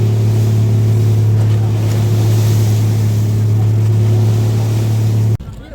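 Motorized outrigger boat (bangka) heading back to Santa Fe, Tablas, Romblon: a loud steady engine drone with rushing waves and wind, cutting off abruptly near the end.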